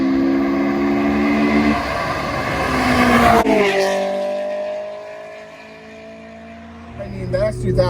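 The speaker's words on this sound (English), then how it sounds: "give us a roll first, second, third, maybe even fourth gear, and try to not break the law" A 2007 Honda S2000 accelerates hard through its gears, engine pitch rising sharply between upshifts, then easing off before revving again near the end, with someone talking over it.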